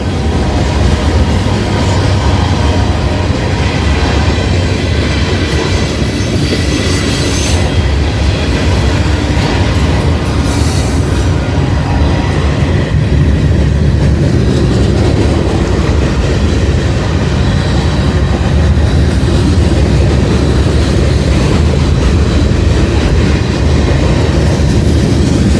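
Freight gondola cars roll steadily past at close range, a continuous loud rumble with clattering wheels and occasional faint squeals, no voices.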